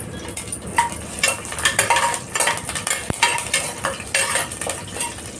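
Garlic and curry leaves frying and being stirred in a pan for a coconut chana dal curry, with steady sizzling and repeated scraping clinks of a spoon against the pan, no talking.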